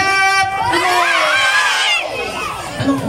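A loud crowd of relatives and friends shouts together at a child's second birthday party, with children's high voices rising in a sustained cheer that tapers off near the end.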